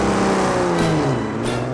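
A car drives past in the 1969 Bond film On Her Majesty's Secret Service, its engine rising and falling in pitch as it sweeps close by with a whooshing rush, heard alone.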